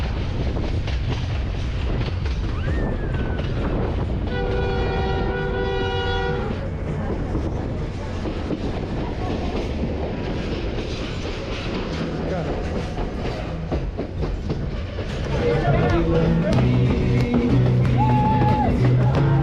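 A passenger train from Puno to Cusco rolls along the rails with a continuous loud rumble and rattle, a long horn blast partway through, and a brief voice near the end.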